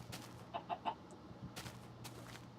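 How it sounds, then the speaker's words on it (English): A Minecraft chicken clucks in the video game, three quick soft clucks in a row followed by faint scattered game noises, with no talking. "Hello, Mr. Chicken."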